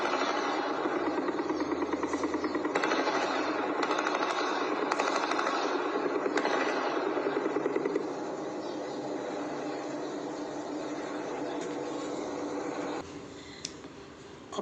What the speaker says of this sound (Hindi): कंटिन्यू बर्स्ट फायर की आवाज़ें आपको सुनाई देंगी यहाँ पर